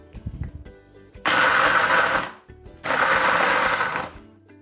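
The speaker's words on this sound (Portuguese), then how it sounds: "vai pulsando o liquidificador assim," Two long bursts of a blender roaring at full speed, each lasting about a second, separated by a short pause with faint low rumbling.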